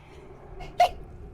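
A single short, sharp sneeze bursts out during a Baldur's Gate 3 play session, brief and fairly close against quiet background.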